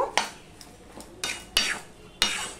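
Spoon stirring papaya curry with sugar in a pan, a series of about five or six distinct scraping clinks against the metal at irregular intervals, fairly close and quiet, with no talking.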